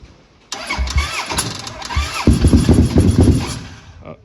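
A traded ATV engine with flooded cylinders cranks briefly, then catches and starts, revving unevenly before settling into a rough, close idle; no one speaks over it.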